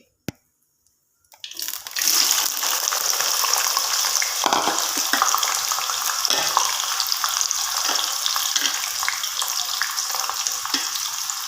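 Onions and okra fry in oil in a kadhai. After a small click and a short quiet, a loud, steady, close sizzle starts and continues throughout, with occasional soft clunks of stirring.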